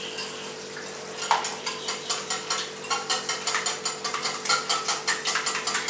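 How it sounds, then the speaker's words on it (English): Coconut cream and curry tart ingredients stirred briskly in a bowl, giving a steady run of rhythmic scraping clicks of utensil against the dish, close and fairly loud with no talking. "So mix well your ingredients."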